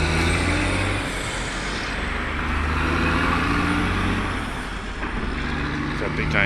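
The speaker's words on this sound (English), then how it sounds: "That big giant truck over there making all kinds of noise" A big truck rumbles nearby with a steady low engine drone and broadband road noise, continuous throughout, while a person talks over it.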